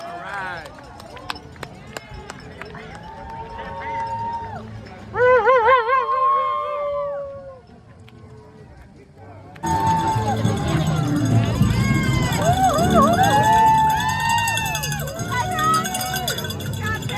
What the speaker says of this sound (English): As you can see, the crowd support is very loud.